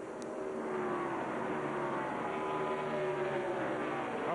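NASCAR Busch Series stock cars racing at New Hampshire International Speedway in 2000, a steady loud engine drone with shifting pitch as cars pass, continuous over the whole stretch.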